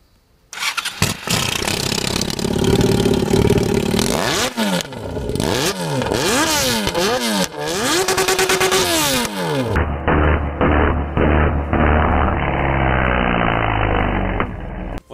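A Yamaha XJ6 motorcycle with two slime toys and a condom stuffed in its exhaust cranks, fires up and is revved repeatedly. Its close, loud engine note sweeps up and down in sharp bursts, then settles into a rough, rumbling idle.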